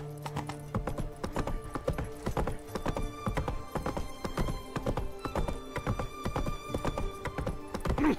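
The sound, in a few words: horse Roach's hooves clip-clopping, from The Witcher 3 video game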